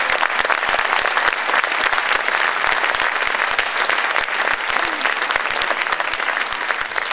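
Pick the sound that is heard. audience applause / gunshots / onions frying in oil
audience applause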